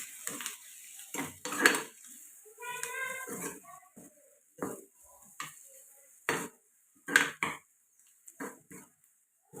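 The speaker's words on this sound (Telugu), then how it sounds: "రుచికి సరిపడగా ఉప్పు ఇవి బాగా కలుపుకోండి" A spoon stirs salt and garam masala into an egg puff filling in a bowl, making sparse, close taps, scrapes and clinks in an irregular rhythm.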